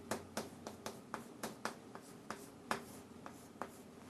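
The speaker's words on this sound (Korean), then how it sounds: "추성훈 선수를 한번 여기다 한번 제가 써볼게요" Someone writing a name on a board: a quiet, steady series of short, crisp marker or chalk strokes tapping out an irregular rhythm, with no speech.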